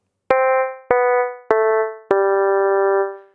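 Four short synthesized musical notes step downward one after another. Each is a bright harmonic tone built without its fundamental pitch, and each starts with a sharp attack and then fades.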